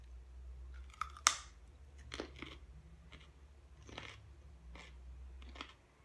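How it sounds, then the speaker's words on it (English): Crisp crunching bites into a raw carrot piece, a few sharp crunches close to the mic followed by softer, spaced chewing sounds in a quiet room. "let's see how long it takes me to chew this piece of carrot"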